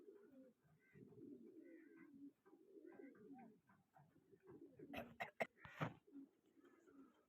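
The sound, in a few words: pigeons cooing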